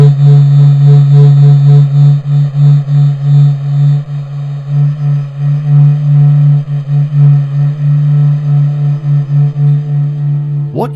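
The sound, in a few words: sonified heartbeat of the Sun from NASA SOHO data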